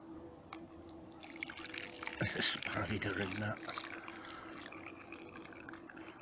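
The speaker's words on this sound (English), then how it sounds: "tea bag in, add the water." Hot water poured into a cup holding a tea bag on a camping pot stand: a quiet, brief splashing pour under a person's speech.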